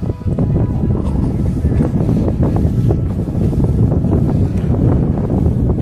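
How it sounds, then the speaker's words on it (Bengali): Strong, cold wind gusting across the shore of Pangong Lake in Ladakh, a loud continuous rumbling buffet battering the microphone with no let-up. "প্রচন্ড হাওয়া, প্রচন্ড শীতে সবাই কাঁপছি।"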